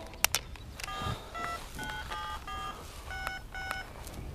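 Mobile phone keypad tones beep in a quick series of short, evenly spaced presses, about eight or nine tones of varying pitch, moderately quiet against a low background hum, with no speech.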